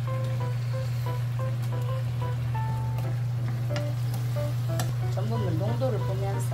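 Grilled tofu pieces going into simmering stock seasoned with doenjang and a little oligosaccharide syrup, giving a steady bubbling sizzle with faint stirring and clinks over a constant low hum, no talking.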